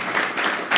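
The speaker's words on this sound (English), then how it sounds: "while we're clapping" An audience at a live business book club event claps, a dense steady patter of applause filling the whole short moment.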